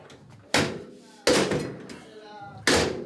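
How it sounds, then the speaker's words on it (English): A door bangs shut three times in separate loud, sharp slams, each followed by a brief ringing decay, with quieter room noise and faint rattles between the hits. "Did you bang on the door?"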